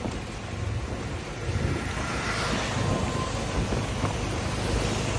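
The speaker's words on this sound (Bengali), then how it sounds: "টানা 2 দিন যাবৎ সিলেটে মুষলধারে বৃষ্টি হচ্ছে" Torrential rain falls over Sylhet city, a broad, roaring wash of downpour with a low rumbling undertone, steady and fairly loud throughout with no talk.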